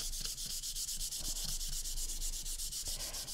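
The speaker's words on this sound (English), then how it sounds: "I'm going to have to really sand this." Hand sanding on a heavily painted piece of furniture being distressed: rapid, rhythmic back-and-forth rasping strokes, close and steady, with no voices.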